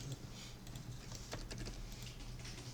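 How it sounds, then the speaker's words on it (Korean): Computer keys pressed during CAD software work, a held Ctrl key with the number 1 key, heard as a few soft, close clicks over a steady low hum. "컨트롤 키를 누르고 있는 상태에서 키보드 숫자 1번, 네, 숫자 1번 누르시면 됩니다"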